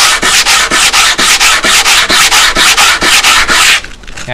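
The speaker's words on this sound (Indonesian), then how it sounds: "Jadi ini dibasahin batunya, kemudian di lapping manual dengan menggunakan amplas grit 40 ya, 40 atau 60." A wet whetstone is lapped by hand on 40-grit sandpaper: loud, rhythmic scraping strokes, about two per second, repeating evenly for roughly four seconds with no voices.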